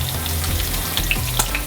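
Carrots frying in a pan, a steady close sizzle with a few soft clinks and stirring scrapes scattered through the short stretch.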